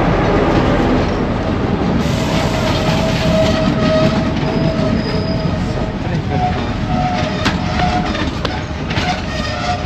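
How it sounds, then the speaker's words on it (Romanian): A train to Colombo, Sri Lanka, rolling loudly with continuous wheel rumble, rhythmic clickety-clack and occasional wheel squeal throughout, heard up close from on board. "Trenul spre Colombo."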